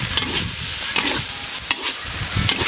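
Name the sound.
stir-frying pork belly with onion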